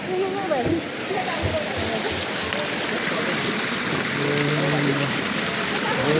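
Water pouring from the spouts at the Muktinath temple in Nepal, a loud and constant rushing close by, with people talking and calling over the flow.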